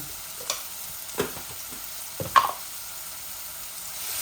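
Chopped onions frying with garam masala in a pan, a low steady sizzle broken by three or four distinct scraping stirs of a utensil against the pan, close by and without voices.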